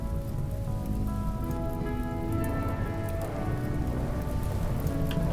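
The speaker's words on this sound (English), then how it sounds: "Looks like the rain is putting it out though," Steady rain falls in RimWorld, a dense, continuous patter and hiss with no pauses, loud and even throughout with no voices.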